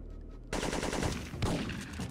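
Dense burst of automatic gunfire in the Syphon Filter 3 video game, erupting suddenly after a quiet start and rattling on loudly and continuously to the end.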